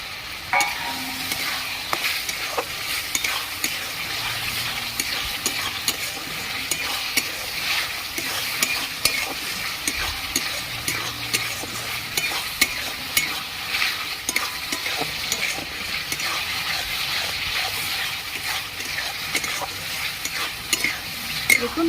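Small potatoes and green peas frying in a pan while being stirred, a continuous close sizzle with scraping stir strokes throughout and no talking.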